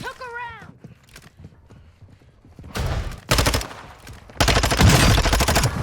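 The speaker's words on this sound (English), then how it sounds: "I just got shot at." Bursts of gunfire from the video game Warzone 2.0 include rapid automatic volleys that come loud and close in two stretches, with a brief voice heard early on.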